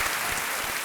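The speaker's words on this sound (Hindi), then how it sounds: "Big hand for Sindhu." Brief burst of dense, continuous audience clapping in a TV quiz show studio, welcoming badminton player PV Sindhu, loud and filling the room.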